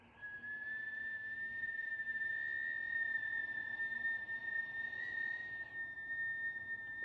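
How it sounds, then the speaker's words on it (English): A sustained, steady whistle made by inhaling through pursed lips during a Kundalini yoga breathing exercise, holding one clear pitch for about six seconds and fading at the end, with no talking. "We're going to breathe in as a whistle breath."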